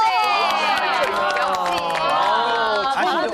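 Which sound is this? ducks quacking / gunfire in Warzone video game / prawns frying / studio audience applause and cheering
studio audience applause and cheering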